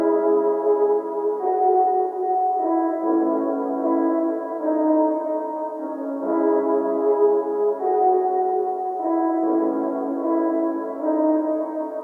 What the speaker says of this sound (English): I turned it into something which is like an ambience layer